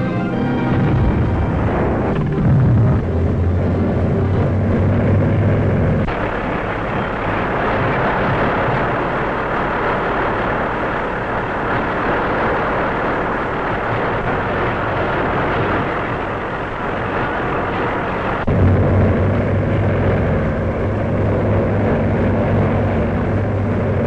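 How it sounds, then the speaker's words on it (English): Heavy bomber aircraft engines rumble on the apron before a ferry flight across the Atlantic, a continuous loud drone that swells at the start and again near the end, with no voices. "today's batch of bombers grumbling on the aprons"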